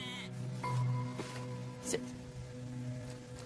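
Goats bleat nearby in a few short, wavering calls over a low steady hum, with faint voices in the background during dog obedience work.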